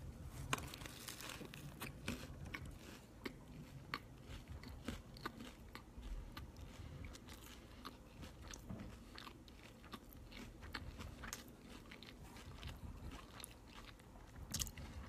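Crunchy bites and steady chewing of a Taco Bell Cheesy Gordita Crunch, a hard-shell taco wrapped in a soft pita-style flatbread, close up with repeated crackling crunches and no talking.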